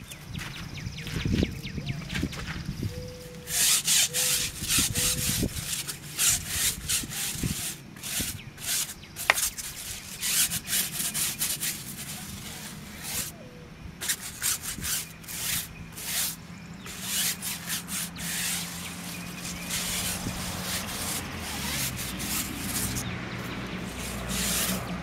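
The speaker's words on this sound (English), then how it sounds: "I scrape out the tires. So I'm gonna do that first." A firm brush scrubs car tires in quick, rhythmic strokes, making a loud, close, rasping scratch that repeats in bursts with brief pauses and no talk.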